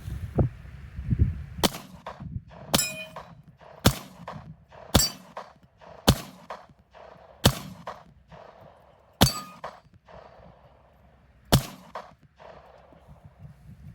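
Luger pistol fired one-handed: about nine sharp, loud shots spaced unevenly over several seconds, each with a short ringing tail over faint background noise.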